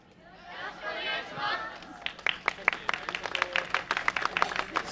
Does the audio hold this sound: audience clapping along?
yes